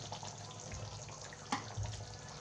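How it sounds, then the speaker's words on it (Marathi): Half a cup of water poured into a pan of spicy chicken curry, a soft splashing pour close by that lasts about two seconds, with a small bump partway through. "आता त्यामध्ये मी आहे ना फक्त अर्धीच वाटी पाणी टाकणार आहे"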